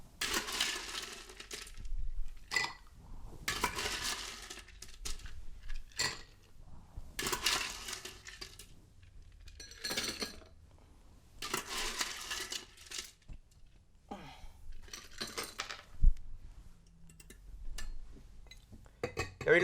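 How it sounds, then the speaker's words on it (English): Ice rattles inside metal cocktail shaker tins in repeated vigorous bursts of clattering, close and loud, separated by brief pauses. "So we're just going to give this a quick shake"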